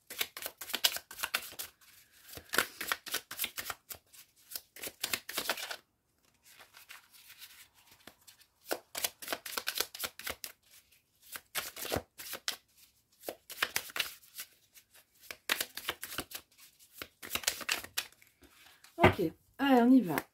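Tarot cards shuffled by hand during a cross-spread reading, giving repeated bursts of papery riffling and sliding separated by short pauses, fairly close and moderately loud with no talking over them.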